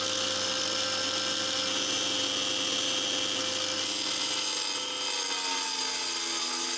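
A wet tile saw cuts through ceramic tile, giving a loud, steady, close-up motor whine with a hissing grind. The pitch shifts slightly midway, and no one speaks.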